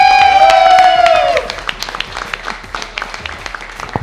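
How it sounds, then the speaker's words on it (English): A studio audience bursts into lively clapping right after a brief bright musical tone fades, the claps dense and close at first, then thinning into scattered individual hands. "Big clap for yourselves there."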